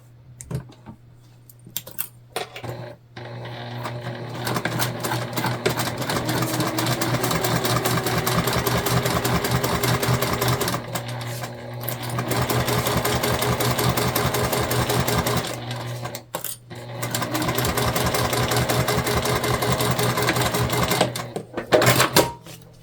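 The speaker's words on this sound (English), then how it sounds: "we're back stitching at the beginning and the end of everything" A sewing machine back stitches tote bag panels in long close bursts of rapid rattling stitching, pausing briefly twice between runs, with a steady low hum underneath.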